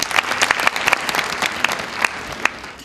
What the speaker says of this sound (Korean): 모두 큰 박수로 환영해 주시기 바라겠습니다